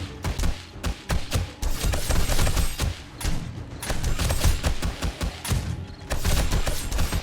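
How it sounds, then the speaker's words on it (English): Shotgun traps fire at a zombie horde in the survival game 7 Days to Die, with dense, overlapping blasts and thuds in rapid rolling volleys that barely pause for the whole stretch. "Those shotguns are working."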